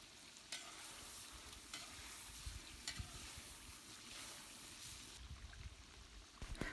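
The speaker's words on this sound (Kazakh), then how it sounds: "туралған пиязды қызартып қуырып аламыз" About a kilogram of chopped onions frying in fat over a campfire for Tashkent-style plov, a constant rough sizzle with occasional stirring knocks, heard outdoors with some wind.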